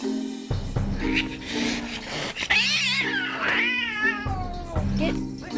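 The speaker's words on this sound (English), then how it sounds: "After an hour, the abandoned cat has finally calmed down." An abandoned cat yowls and meows loudly up close in an animal shelter, several drawn-out wavering cries in a row with background noise between them.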